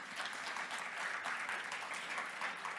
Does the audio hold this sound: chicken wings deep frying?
no